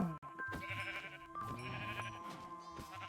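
Sheep bleat softly in the Warzone video game, a few wavering bleats heard faintly over a low game background.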